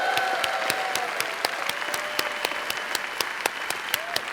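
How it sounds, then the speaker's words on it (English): Audience applause for a storyteller at a Moth storytelling GrandSLAM, dense sustained clapping from a crowd with a few whistles and cheers over it. "please make some noise for Lisa"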